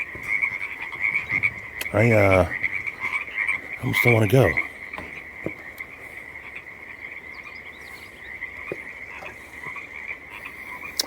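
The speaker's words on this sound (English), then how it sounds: "Them ain't cicadas. Them are frogs." Frogs at a pond near ice caves in the evening keep up a dense, continuous chorus of croaking that runs unbroken throughout. Someone speaks briefly twice early on over it.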